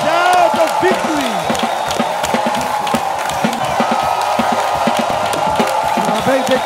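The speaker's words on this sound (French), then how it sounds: "Avec des cris de victoire. With shout of victory." Congregation at a church praise and thanksgiving festival shouting and cheering together, a dense, loud crowd roar with whoops and scattered claps running steadily throughout.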